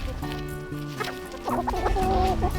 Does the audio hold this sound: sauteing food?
no